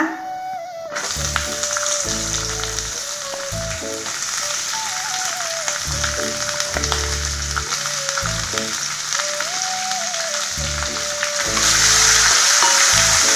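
Onion and garlic fry in hot oil with reddened dried red chillies for a radish chutney, a steady sizzling hiss running throughout beneath loud melodic background music.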